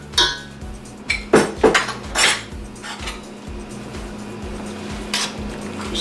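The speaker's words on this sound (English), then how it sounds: "Just gonna stir it." A metal spoon clinks and knocks against a pot as chopped garlic is stirred into marinara sauce for chicken lasagna. Several sharp, close clinks come early, then it settles into quieter scraping.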